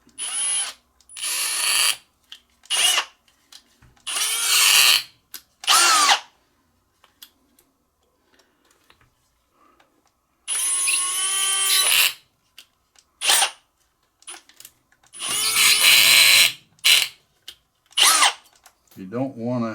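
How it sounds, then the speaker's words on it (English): A power drill whines in repeated loud bursts of a second or two, separated by quiet pauses, with speed changes within some bursts, drilling out a Flaminaire F-12 pipe lighter. "drill this out"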